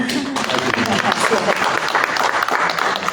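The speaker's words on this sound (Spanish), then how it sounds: "Muy bien, un aplauso." An audience at a book fair panel discussion in Torreón claps in a loud, dense burst of applause, with some voices audible in the mix.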